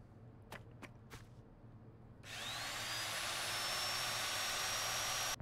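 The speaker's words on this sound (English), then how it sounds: "My old drill used to sound like this." An old power drill whines loudly and steadily, starting abruptly after a few scattered faint clicks and holding a high, sustained pitch until it cuts off.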